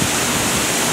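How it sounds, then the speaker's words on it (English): A waterfall spills over rockwork at Epcot's Canada pavilion, making a steady, loud wash of rushing water that fills the whole moment without a break. "Where did all these rocks and waterfall come from?"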